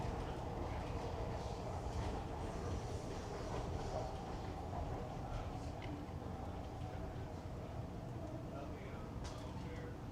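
A 69th Street commuter train rumbles steadily with low, continuous rolling noise and faint clatter, while a voice announces that doors are opening.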